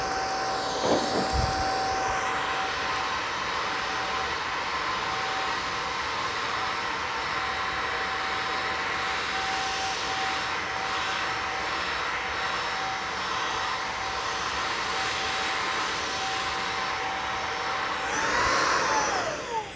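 A Eureka Elevate cordless vacuum cleaner runs on high power as one loud, steady motor whine with a rush of airflow, holding even for the whole stretch and swelling slightly near the end.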